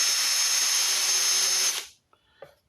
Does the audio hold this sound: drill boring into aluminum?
yes